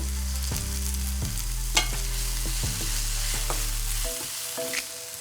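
Onions with black pepper fry in a pan, a steady loud sizzle broken by several sharp stirring scrapes and clinks, ending in a quieter hiss.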